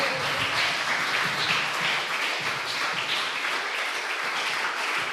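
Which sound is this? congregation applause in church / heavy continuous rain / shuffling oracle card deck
congregation applause in church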